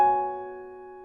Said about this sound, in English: And then the quintal chords are made up of a stack of fifths